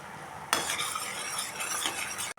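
Melted jaggery syrup stirred in a pan while cooking toward a thick syrup for puffed rice laddu, starting abruptly with a continuous close scraping and bubbling sizzle that runs steadily before cutting off.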